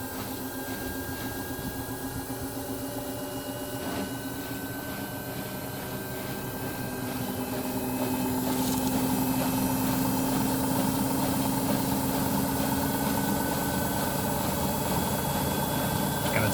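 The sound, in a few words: Samsung Bubble Wash washing machine spin cycle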